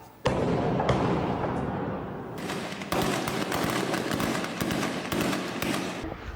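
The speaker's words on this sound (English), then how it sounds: "Explosions and gunfire rang out during a night of terror." Loud, sharp bangs and rapid cracking shots in irregular bursts during a night-time armed robbery in a Brazilian town, echoing over a dense roar of continuous noise.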